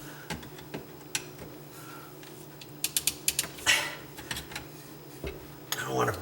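A wrench works a nut on a garbage disposal with irregular metallic clicks, ratcheting ticks and creaks, close and fairly faint, while a person murmurs quietly in the background.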